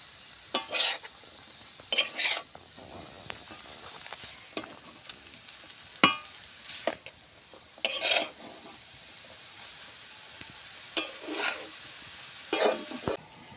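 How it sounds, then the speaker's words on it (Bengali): Snake gourd frying in a pan is stirred in bursts, with scraping strokes of a spatula against the metal separated by pauses, over a steady soft sizzle. "এইভাবে আমি নাড়তে থাকবো"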